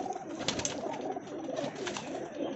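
Pigeons coo steadily near a loft where young birds are being raised, soft repeated murmuring calls layered over a busy, continuous background with no talk.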